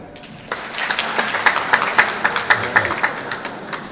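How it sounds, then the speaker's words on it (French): A comedy-show audience in Geneva claps together, starting thin then settling into a fairly regular beat of sharp, unison claps about three per second, moderately loud, fading near the end. "Applaudissez si vous parlez français,"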